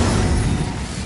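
A fiery blast from the Incendio spell in a Harry Potter video game, a loud, dense whoosh of flame that bursts in at once and holds steady for about a second.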